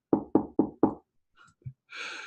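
Four sharp, evenly spaced knocks on a door ring out close and loud, followed by faint rustles, a soft thud and a brief hiss of noise.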